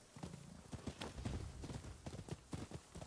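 Horse hooves clip-clopping in the video game Rise of the Ronin, a quiet, steady run of sharp hoof knocks in an uneven walking rhythm, heard alone without talk.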